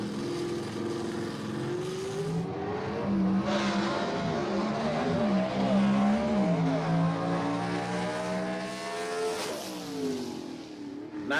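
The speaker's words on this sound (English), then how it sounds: "Sounds to me like he's short shifting that thing through the gears a little bit." A gasser hot rod drag car launches down a dragstrip at a mountain dragway, its engine revving hard and rising through quick short-shifted gear changes, loud and fairly close before pulling away.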